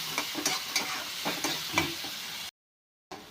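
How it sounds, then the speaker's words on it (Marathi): Onion fries in a pan with salt added while being stirred, a soft steady sizzle with repeated scraping strokes of the spoon close by, then a sudden brief silence. "कांदा लवकर भाजण्यासाठी आपण त्यात टाकूया थोडंसं मीठ"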